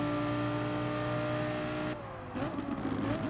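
A Lamborghini Huracán GT3 race car at the Montmeló circuit, heard from onboard, holds a high engine note, changes gear with a brief dip, then pulls hard again with a rising, loud exhaust tone.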